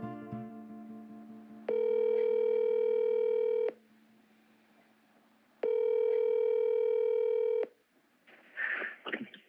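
A telephone ringing out while calling a suspect, two long electronic ring tones separated by a pause, clear and loud, followed by a brief noisy burst.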